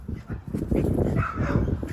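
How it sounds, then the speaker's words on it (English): A neighbor's dog lets out short excited whimpers and yips close by, an uneven run of squeaky vocal bursts over muffled movement. "My neighbor's dog."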